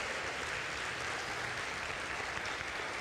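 A church congregation claps together in a dense, steady wash of applause that holds evenly for a few seconds without pause.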